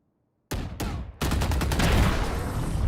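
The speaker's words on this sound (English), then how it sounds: "the non-lethal Vandal headshot" Vandal rifle fire in the VALORANT video game: a sharp close shot, a second quick shot, then a sustained loud burst of rapid gunfire ringing on to the end.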